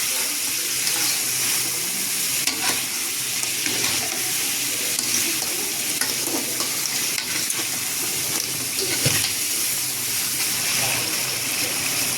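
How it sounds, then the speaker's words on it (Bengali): Water poured into a pot of crab curry after the spices have been fried down, giving a steady sizzling, bubbling wash of sound with some stirring and clinking throughout. "কষানো হয়ে গেছে এখন আমি জল দেবো জল দিয়ে দিলাম"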